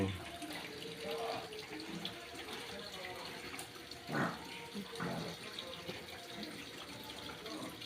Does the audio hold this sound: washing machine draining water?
yes